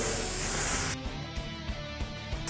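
A close, steady airbrush hiss sprays paint onto flame artwork for about a second and then cuts off, followed by soft clicks and handling noises.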